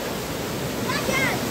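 A swollen river rushes by in a loud, steady wash of broadband noise with no breaks. It is heard up close, and a faint voice-like trace rises briefly partway through.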